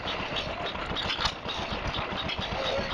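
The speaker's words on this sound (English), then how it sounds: "We've got an economy engine driving a compressor, which is then providing air to drive that steam engine." A hit-and-miss economy engine drives an air compressor at a steam rally, chugging in a steady low rhythmic thump with rattly mechanical clatter throughout, close and continuous.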